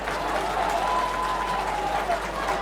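Crowd at a hurling county final applauding a substitute coming on, a broad wash of clapping and crowd noise that runs steadily, with a commentator's voice faintly mixed in.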